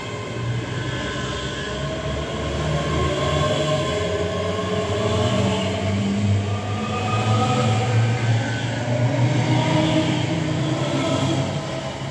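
A passenger train on the Edinburgh Waverley to Dunblane service rumbles past at close range near Falkirk, a loud continuous roar of wheels and carriages that swells slightly toward the end.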